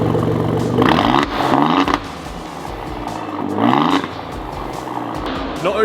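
An Alfa Romeo Giulia Quadrifoglio with a resonator delete and exhaust valves closed is revved twice, each rev a loud, close rise and fall of engine pitch between quieter idle.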